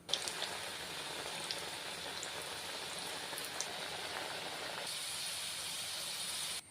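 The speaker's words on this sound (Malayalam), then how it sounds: "ഇനി എണ്ണയിലിട്ട് വറുത്ത് കോരിയെടുക്കാം." Beetroot chips batter frying in hot oil, a steady faint hiss and bubbling sizzle that continues evenly throughout, with no voices.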